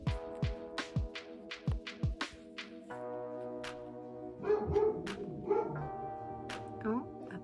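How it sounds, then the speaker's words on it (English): A pet dog at home during a denim patch-mending session, with a few short sharp yelps or barks at the start and later, mixed with a steady low hum and tonal background sounds. "Oh, that's my dog."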